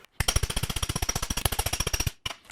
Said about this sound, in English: And I'll do that by hammering against the T-dolly.